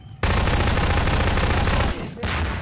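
Loud, close gunfire in a Garry's Mod Prop Hunt match: a rapid automatic burst hammering on for nearly two seconds, a brief gap, then more firing.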